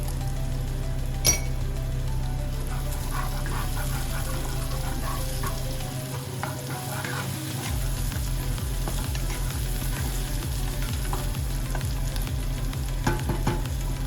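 Continuous sizzling of onion and ginger-garlic paste frying in a pan, close and steady, with occasional clinks of a metal spoon stirring.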